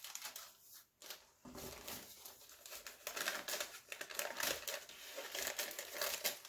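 Gift wrapping paper crinkles and rustles close up in bursts of crisp crackling and crumpling as the paper is handled and folded, with no talking.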